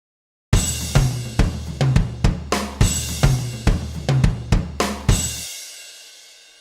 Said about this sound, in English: First, let's listen to the sound of some drums.